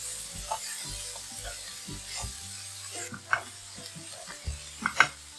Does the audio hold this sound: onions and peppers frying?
yes